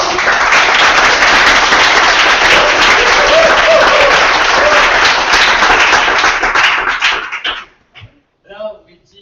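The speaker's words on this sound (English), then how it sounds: "Another huge applause." Loud, dense audience applause at a startup pitch event in Tokyo, sustained clapping and cheering for about seven seconds before cutting off, followed by a few faint sounds.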